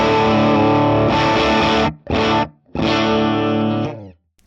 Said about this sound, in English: I'll turn on an overdrive, and then maybe I'll boost that overdrive to hit the amps harder